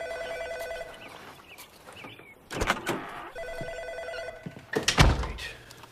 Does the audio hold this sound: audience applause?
no